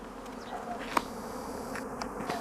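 Honey bees buzz at the entrance of a spring hive, a continuous close drone with individual bees passing nearby and a brief sharp click near one second.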